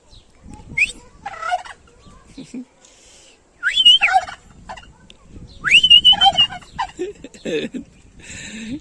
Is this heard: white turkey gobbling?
yes